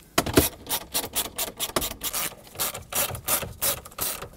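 A ratchet clicks rapidly and rhythmically while backing out 7mm screws from the CD changer of a 2009-2014 Ford F-150, with close, repeated bursts of pawl clicks.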